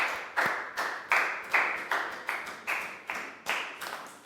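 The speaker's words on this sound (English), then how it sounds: "Big high five and round of applause for Pak Bung." Rhythmic classroom clapping for a student in a Year 3 English lesson, about ten evenly spaced claps in unison, crisp and fairly close, with no talk over them.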